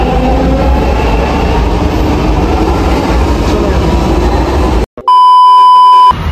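A Bangalore metro train rumbles loudly and close by for about five seconds, then the sound cuts off abruptly and steady electronic beeping tones follow.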